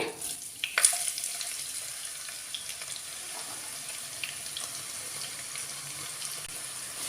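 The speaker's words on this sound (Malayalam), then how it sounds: "എണ്ണ ചൂടായിട്ട് വന്നിട്ടുണ്ട്. സവാള ചേർത്ത് കൊടുക്കുവാണേ." Sliced onion dropped into hot oil for a Manjali chicken biryani, giving a faint, steady sizzle and crackle after a brief clatter at the start, with no voices.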